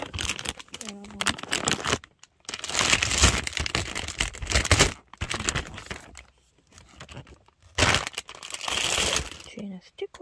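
Plastic film wrap being torn and peeled off a Divoom Ditoo pixel retro Bluetooth speaker, close crinkling and ripping in several bursts separated by short pauses, with brief talk near the start and end.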